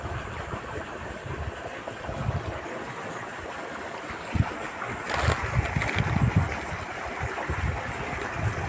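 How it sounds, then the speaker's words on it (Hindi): Continuous rushing flow of irrigation water running through a moong bean field, a steady broadband wash with a brief louder splash midway. "ये पानी चल रहा है मूंग में।"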